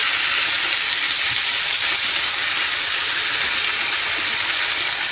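Cabbage cooks in a hot pan with meat sauce, giving a continuous, close sizzle and hissing fry with no break and no talking.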